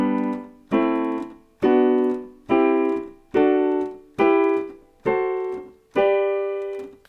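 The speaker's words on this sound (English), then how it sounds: "when we play the 7 chords in order" A piano plays the seven chords of G Ionian in order, eight full chords struck one at a time at a steady rhythm, each ringing briefly before the next, clear and close with no talking.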